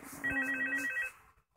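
Phone ringing in Five Nights at Freddy's 2, a short electronic trilling ring burst lasting about a second, clear and fairly quiet, followed by silence.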